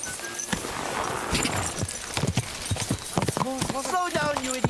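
Horse hooves clip-clop in a steady, close rhythm while riding in the medieval video game Kingdom Come: Deliverance II, with game voices talking over the hoofbeats and a whinny-like tonal call near the end.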